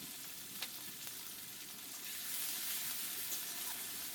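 Sliced onions fry lightly in oil with cardamom, cinnamon and cloves for Bengali mochar ghonto, a soft continuous sizzle with a couple of faint clicks, rising slightly in the second half.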